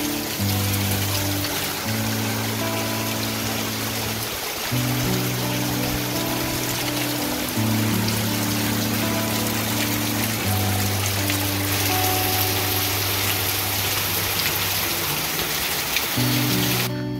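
Dense, steady afternoon monsoon rain in the Konkan pours continuously, with a constant wash of noise alongside low sustained tones that sound like music playing underneath.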